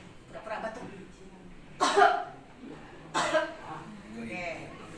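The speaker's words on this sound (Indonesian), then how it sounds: "Ya, pura-pura batuk." Two pretend coughs, sharp and distinct and spaced about a second apart, demonstrate cough etiquette at a hospital infection-control workshop on masks and hand hygiene, with soft talking around them.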